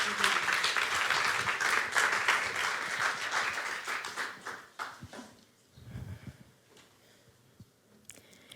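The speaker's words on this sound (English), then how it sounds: "est-ce qu'on peut juste applaudir un peu le think tank" Audience applause at a museum conference, a loud sustained round of clapping that fades out after about five seconds, leaving a few scattered claps and low murmuring.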